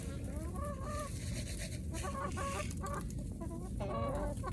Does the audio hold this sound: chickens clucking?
yes